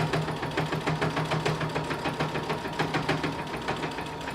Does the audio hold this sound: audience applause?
no